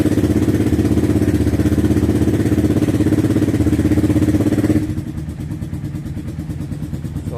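A motorcycle engine, run after a month of storage, putters close by with a fast, even thumping idle, loud and steady, then drops slightly softer partway through as it keeps running alone.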